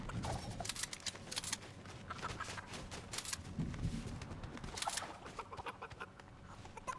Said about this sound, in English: Get back here, chicken.